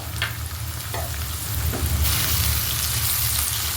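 Carrots and capsicum stir-frying in a pan, a steady close sizzle with a few scraping stirs early on, then the frying hiss brightens and grows louder and holds to the end.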